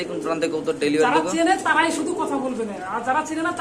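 Pigeons coo softly in repeated warbling phrases nearby, mixed with someone talking over them.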